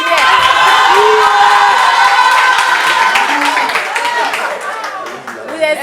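A crowd claps and cheers loudly, with whoops and shouts mixed in, the applause thinning slightly toward the end.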